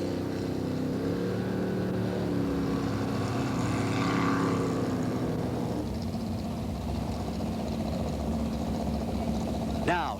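Racing jetboat number 377 launches down the Payette River, a heavy, continuous engine roar with a rising whine mid-way, loud and sustained, with a voice faintly mixed in.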